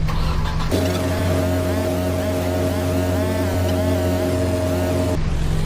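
Car engine in the video game Sail and Sink Simulator, a loud, steady mid-pitched running drone that starts abruptly, holds constant for several seconds, then cuts off.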